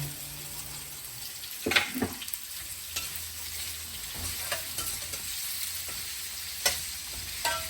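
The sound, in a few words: sliced onions frying in a pan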